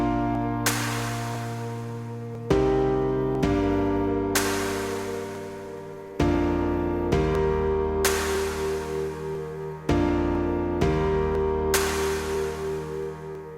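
Piano chord progression with bass notes doubled an octave below, each chord struck firmly and left to ring and decay before the next change, about eight chords in a steady, close, solo passage.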